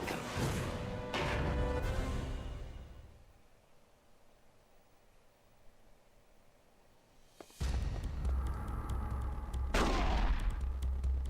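Heavy gunfire bursts in Metal Gear Solid: The Twin Snakes on GameCube, a loud crash of shots that fades into a quiet lull before another booming volley erupts, echoing and harsh.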